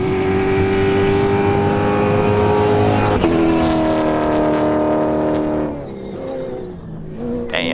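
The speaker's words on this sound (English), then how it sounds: "Here comes the first car of the day." A MINI rally car at the Dakar 2018 rally roars past close by, its engine note loud and sweeping down in pitch as it passes, then fading into the distance with a brief rise at the end.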